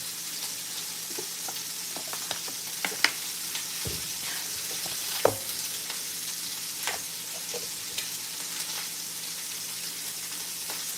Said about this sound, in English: in a pan, I'm going to cook them for a couple minutes on each side